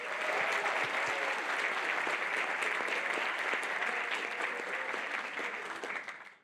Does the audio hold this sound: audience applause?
yes